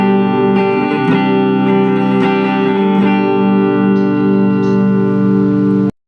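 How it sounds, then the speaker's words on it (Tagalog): Strummed electric guitar chords ring through a Chameleon 30-watt amplifier on its clean channel, loud and close with a smooth, undistorted sustain, a few distinct strums before the sound stops abruptly. "Ito yung tunog ng clean tone."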